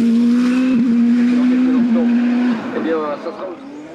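A Revolt 3P0 Turbo race car climbs the Limonest–Mont Verdun hill climb, its engine holding a loud, steady high drone that wavers briefly before dropping away and fading, with a voice talking over it.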